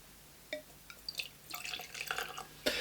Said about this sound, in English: I'm going to pour a glass and tell you.